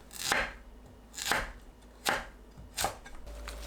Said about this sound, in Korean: 밤을 납작하게 썰어주세요.